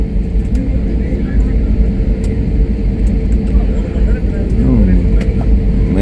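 Inside an airliner on a Chennai to Leh trip, a loud, steady engine drone and low rumble fill the cabin, with a voice talking over it.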